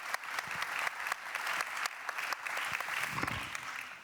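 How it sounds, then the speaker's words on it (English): An audience at a European security conference claps steadily, a dense wash of applause that carries on throughout with a few louder individual claps. "This is your applause."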